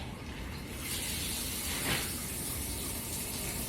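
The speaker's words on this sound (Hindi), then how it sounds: "ये देखिए पानी आ रहा है ना, ये पानी आ रहा है।" Water running from a tap through a diverter fitting, a steady hissing gush that grows louder and brighter partway through, close and continuous with no talk.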